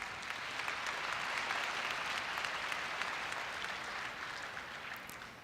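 A large audience at a Korea University ceremony claps steadily, a dense sustained applause heard from a distance that eases slightly toward the end, with no voices over it.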